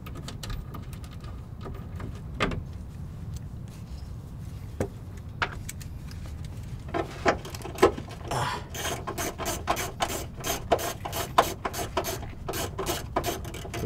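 Rapid ratchet clicking from a spring-loaded socket being turned in a home garage while building a Mazda Miata, starting with sparse isolated clicks and building into a dense run of sharp, close clicks toward the end.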